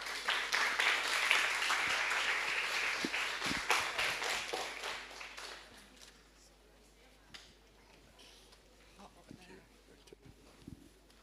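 An audience claps after a talk at the Hush Symposium 2024, with steady applause at first that thins into scattered claps and fades, and some faint voices underneath.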